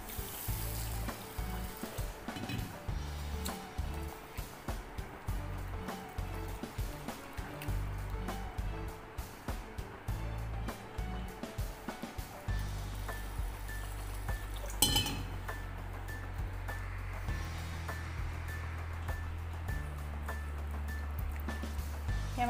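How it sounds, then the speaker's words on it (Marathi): Broken wheat dalia mixed with millet and green lentils being rinsed in water in a pot, heard as quiet swishing and trickling with occasional small clinks of the vessel and one sharper knock partway through. "आता आपण सर्वप्रथम याला स्वच्छ 1 ते 2 वेळेला पाण्याने स्वच्छ धुवून घेणार आहोत"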